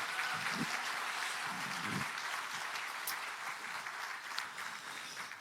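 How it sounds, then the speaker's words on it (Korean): Faint, distant applause from an audience at a political party's 70th anniversary ceremony, a steady crowd clapping with a few low murmurs mixed in. "함께 자축의 박수를 보내주시기 바랍니다."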